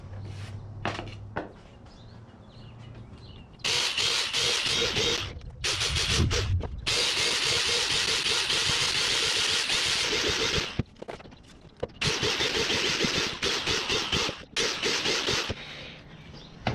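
Power drill boring many holes through the bottom of a DIY garden worm tower for a raised bed, long loud whirring bursts separated by short pauses and a few brief scraping grabs, close by with no talking.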